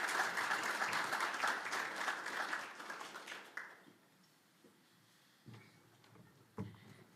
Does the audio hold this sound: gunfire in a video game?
no